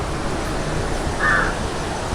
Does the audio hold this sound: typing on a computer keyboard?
no